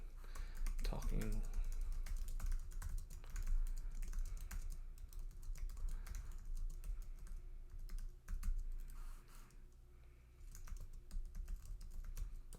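Rapid clicking keystrokes on a computer keyboard while a follow-up message is typed into CRM software, a steady close patter running throughout with some talk layered over it.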